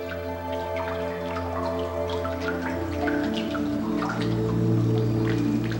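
Water drips in a cave chamber, scattered irregular drops plinking near and far over a steady low background hum.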